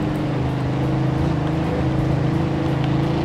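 Turbocharged car engine in the Mafia 2 video game, a loud steady drone that holds without a break, with a rough rumbling roar under a hiss of wind.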